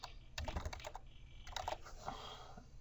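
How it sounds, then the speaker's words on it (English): Typing on a computer keyboard while using the Photoshop CS6 text tool: two quick bursts of close, crisp key clicks separated by a short pause. "And you can just start typing."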